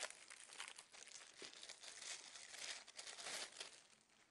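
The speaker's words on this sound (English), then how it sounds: "The new filter will come in a plastic bag." A plastic bag is crinkled and pulled off a new water ionizer filter, giving a steady, close-up rustling and crackling that lasts throughout with no voices.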